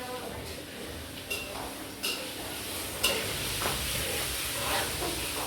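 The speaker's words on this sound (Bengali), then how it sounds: "ও পেঁয়াজটা ভাজা নিতেছে" Onions frying in a pan for mashed potato, a soft steady sizzle with a few sharp clinks and scrapes of stirring against the pan, fairly quiet and close.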